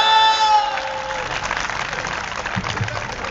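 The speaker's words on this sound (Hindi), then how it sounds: "ये उन्हीं लोगों ने ताली बजाई है" Audience clapping at a Hindi comedy poetry show, a dense, continuous patter of many hands filling the room. It stays steady and fairly loud throughout with a brief tonal sound at the start, and no speech over it.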